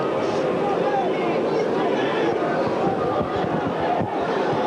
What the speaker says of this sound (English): The crowd in good heart, naturally,